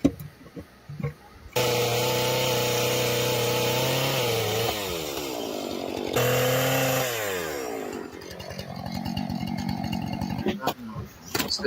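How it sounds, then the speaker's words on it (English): Chainsaws cutting leftover scrap lumber cut-offs from a mill, with two loud sustained runs whose pitch sags under load, then a revving, quieter stretch with voices nearby. "It's the sound of chainsaws."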